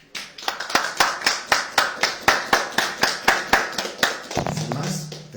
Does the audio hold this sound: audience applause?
yes